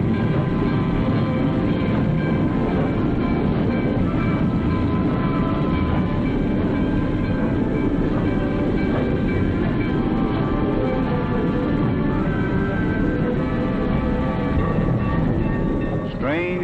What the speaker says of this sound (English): hundreds of passenger trains are made up every day, in addition to hundreds of freight trains